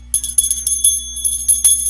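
A small cross bell, rung at a sports talk show taping at a car dealership, sounds in a quick run of bright, high strikes with an irregular rhythm, fairly close and clear over a low steady hum.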